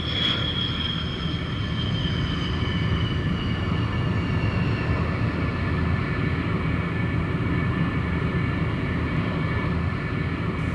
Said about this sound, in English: And now it's time to bring the Sabre back to Earth.